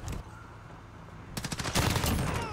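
M16 hip-fire gunfire in Call of Duty Modern Warfare: a short burst near the start, then a quiet gap, then rapid sustained automatic fire that builds and stays loud to the end.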